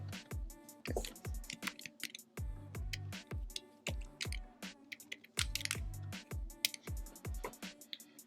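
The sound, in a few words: typing on computer keyboard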